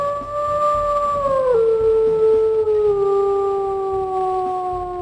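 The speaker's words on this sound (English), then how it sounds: "let's go ahead and we'll listen to her howls as well" A drawn-out female wolf howl from a video game, a single smooth tonal call that holds steady, dips in pitch, then carries on loud and close, with no talking over it.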